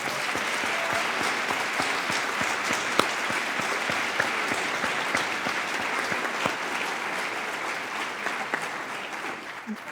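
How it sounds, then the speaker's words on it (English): An audience applauds steadily for about ten seconds, a dense, even wash of clapping heard at moderate distance with no talk over it. "I think I would like to give him a round of applause."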